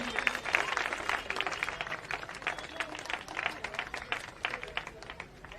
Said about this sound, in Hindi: आप आए तो एक जोरदार तालियां दीजिए।